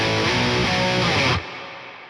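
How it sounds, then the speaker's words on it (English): A distorted metal guitar tone through an MLC S_Zero pedal with its reverb engaged, loud and dense, then cut off abruptly so a quieter reverb tail rings on alone. "Then we've also got a reverb."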